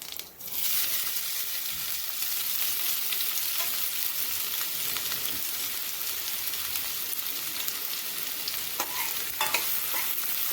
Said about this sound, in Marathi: कांदा आपल्याला छान फ्राय करून घ्यायचा आहे.